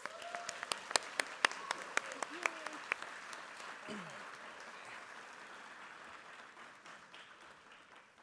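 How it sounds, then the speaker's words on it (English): Faint, distant applause from an audience at a Cesar Chavez celebration award ceremony at Colorado State University, with a few sharper claps standing out early before settling into soft, steady clapping. "Can we have another round of applause?"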